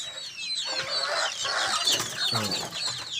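Many chickens cluck and squawk together nearby on a small local-breed poultry farm, a busy overlapping chorus of hens with no one speaking.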